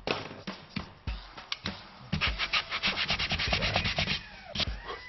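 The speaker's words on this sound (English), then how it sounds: "And then what, sand it back?" Hand sanding of a wooden picture frame: a series of rough rubbing strokes, sparse at first, then quicker and continuous, close and clear with no talk.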